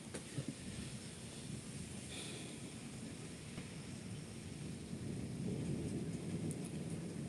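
Heavy rain pours steadily outside a garden during a thunderstorm, a dense constant roar with a low rumble of thunder beneath, slightly louder toward the end.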